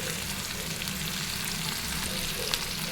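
Boiled broad beans are stirred into a pan with onions, a dense continuous sizzle of frying with soft scraping, fairly loud and close throughout.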